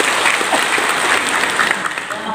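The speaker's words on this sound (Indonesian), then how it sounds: "tepuk tangan untuk kita ini" Audience at an installation ceremony for village officials in Lebak applauds steadily, a dense wash of clapping that holds at an even level for the whole stretch.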